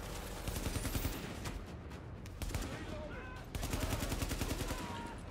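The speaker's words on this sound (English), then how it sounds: "Wait, where am I getting shot from?" Sustained automatic gunfire in a Tom Clancy's The Division battle, with continuous rattling bursts, loud and near, carrying on with only brief lulls.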